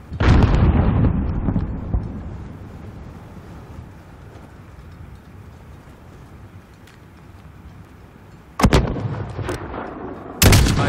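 Heavy gunfire and mortar blasts in Call of Duty: Modern Warfare (2019) on PS4: a loud burst of shots at the start, a quieter rumbling stretch, then sharp, booming impacts near the end.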